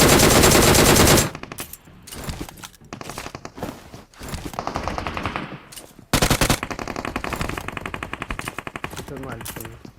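Rapid gunfire from a gunfight, loud and dense automatic bursts filling the start, then scattered shots and clattering, followed by another long sustained volley of rapid, evenly spaced shots.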